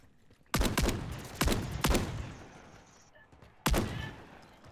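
Gunfire in Call of Duty, several sharp loud shots and short bursts with echoing tails, spaced irregularly with a quieter gap before a final shot.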